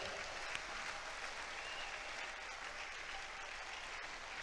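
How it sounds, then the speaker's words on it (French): A congregation at a thanksgiving church service applauds with a continuous, even patter of many hands, heard quietly and at a distance for over four seconds. "Clap for the Lord."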